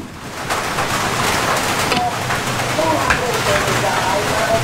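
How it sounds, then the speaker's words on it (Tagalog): Heavy rain drums steadily on surfaces at a campsite during a low-pressure storm, a loud, dense wash of noise that never lets up, with gusty wind mixed in. "Umuhos naman mga tol yung malakas na ulan. Pabugso-bugso gaya ng hangin."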